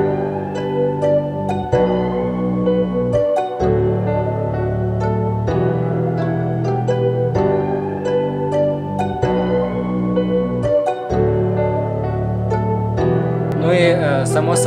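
Finished piano melody for a beat made in FL Studio 20, a repeating phrase of chords and notes in regular bars with a brief break every couple of seconds, loud and clear, with no talk.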